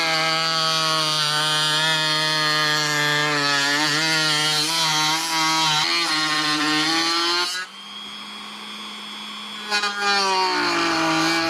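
A small power saw cuts a piece for an N scale model railroad bridge, a loud steady whine with pitch dipping under load, then falling quieter near the end before a brief surge.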